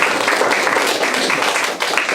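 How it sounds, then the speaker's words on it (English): Wedding guests break into steady, continuous applause for the plotters, a dense wash of many hands clapping at once that stays loud and even throughout without pause. "Give them a round of applause."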